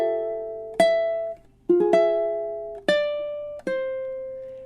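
A ukulele plays measure 9 of a Christmas song, four clear plucked notes and chords ringing out one after another in a slow, even rhythm, close and alone.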